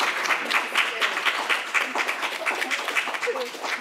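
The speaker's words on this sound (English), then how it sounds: "Please give another round of applause" Audience applause following a poetry reading at a poem jam, a moderate crowd clapping in a quick, slightly uneven patter that continues steadily for a few seconds.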